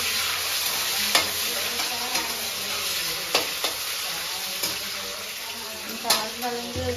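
Tomatoes frying in a pan on a home stove, a steady sizzle with a spoon scraping and stirring at intervals, close and fairly loud.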